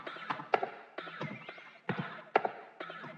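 A dark percussion loop from the Circuits multi-kit repeats in a loose rhythm, with sharp clicky hits and rattly, textured bursts recurring about every second, fairly quiet and alone.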